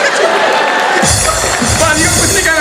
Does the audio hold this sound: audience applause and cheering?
yes